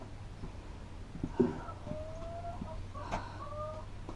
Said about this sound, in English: The chickens are very unique in what they do.